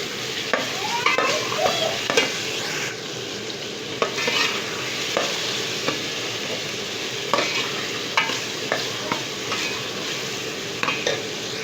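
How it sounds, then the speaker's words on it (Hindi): Ground onions and potatoes sizzle steadily in a frying pan while a spoon scrapes and stirs with irregular clinks and scuffs, close up and without talk. "इसी में मैं आलू भी डाल लेती हूँ।"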